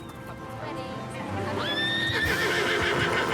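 A horse neighs loudly in a long, rising and falling whinny over a background of hoof clip-clop and ambient noise, with faint voices underneath.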